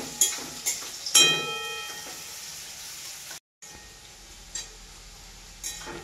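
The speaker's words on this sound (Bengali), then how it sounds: "পেঁয়াজটা আমি লাল লাল করে নিয়ে ভাজে নিয়েছি" Chopped onions frying in a pan for a mutton curry, a soft steady sizzle running under a few sharp clinks of a utensil against the pan, with a brief cut to silence midway.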